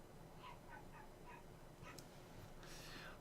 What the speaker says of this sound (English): I just heard a dog bark.